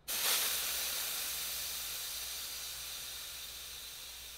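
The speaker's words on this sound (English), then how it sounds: "you can hear the pressure relief valve open up," Pressure relief valve on an IK Foam Pro 2+ pressurized sprayer venting excess air, a loud close continuous hiss that bursts on at once and slowly eases over about four seconds.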